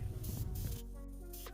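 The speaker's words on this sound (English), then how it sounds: "Then just a quick spritzing of tan along the top of the shark." Airbrush spritzing tan paint onto a shark swimbait, giving brief hissing bursts up close over a steady tonal hum from the compressor.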